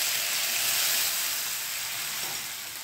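Cumin seeds, a pinch of asafoetida and ginger-chili paste sizzle in a spoonful of hot oil, a steady close bright hiss that eases slightly toward the end, with no voices.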